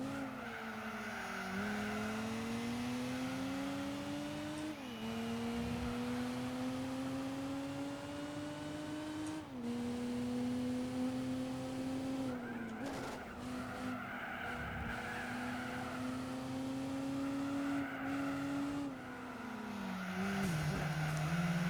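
A six-cylinder car in the racing game Gran Turismo 4 drones with a steady engine note that climbs through the revs and drops at each gear change, alongside bursts of tyre squeal and skidding. The game sound is continuous and fairly quiet.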